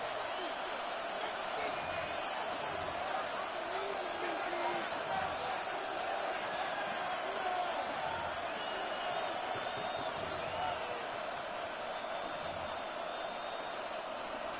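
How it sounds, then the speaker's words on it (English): A steady stadium crowd roar at Soldier Field in the Madden Ultimate Team football video game, rising as the Cowboys face a big third down in the fourth quarter. It is continuous and fairly faint, with no voices standing out. "the crowd getting into it as we come up on a big 3rd down"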